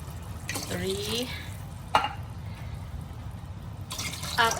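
Water from a can poured into a cooking pot for patola with bihon and sardines, in a few separate splashing pours, with a person talking between them.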